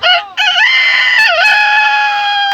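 A man imitates a rooster crowing: a short opening call, then a long, loud, drawn-out crow with wavering pitch, close up.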